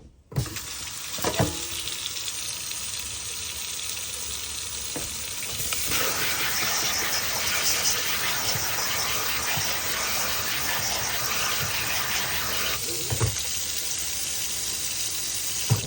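Tap water runs steadily into a sink as nopales are rinsed under it, a continuous close gushing flow with brief handling clatters partway through.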